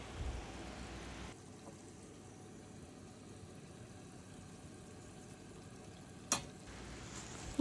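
Ground turmeric, chilli, coriander, curry powder and cumin frying in hot oil with onions for a tomato pabda fish curry, a soft steady sizzle at low level with one brief clatter near the end.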